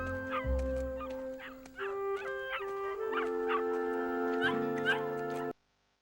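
A cartoon puppy whimpers and yips in a series of short, high cries over a musical background, fairly loud and close, before the sound cuts off abruptly.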